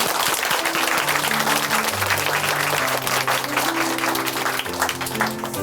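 A church congregation in Chuncheon gives brother Kim Jae-hyun a big round of applause after his testimony, steady loud clapping from a crowd over sustained music.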